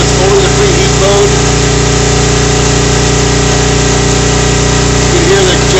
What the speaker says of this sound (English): You can hear the generator laboring here.